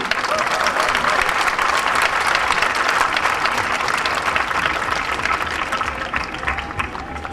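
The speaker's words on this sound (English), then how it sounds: "how about a nice round of applause for our seniors joining us for our last time today" A large crowd at the 2010 Malden High School graduation ceremony applauds the graduating seniors: dense, steady clapping that carries loudly and unbroken from start to finish, easing only slightly at the end.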